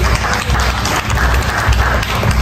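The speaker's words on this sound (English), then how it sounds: "big round of applause for Ramo, everybody" Loud, close applause and clapping from coworkers at Harvey Beef, a dense burst of hands with some low thumping underneath, lasting a couple of seconds.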